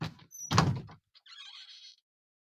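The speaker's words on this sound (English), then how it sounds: "it's a creepy door" A creepy-sounding door creaks and thuds briefly, followed by a short hissing scrape, isolated against silence.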